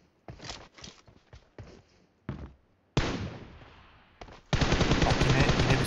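Gunfire in PUBG Mobile: separate sharp shots and short bursts, then a long sustained automatic spray near the end, loud and close, with a little talk.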